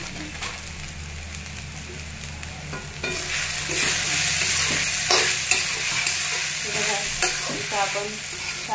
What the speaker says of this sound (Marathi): आपण साबुदाणा परतत आहे।